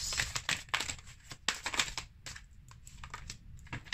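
Oracle cards drawn and shuffled from a deck, a close, quiet run of crisp papery flicks and slides in irregular bursts with no voices.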